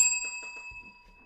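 A bell struck once in a video game, a bright single ding that rings on with a sustained metallic tone and slowly fades, with a few soft clicks and low thumps underneath.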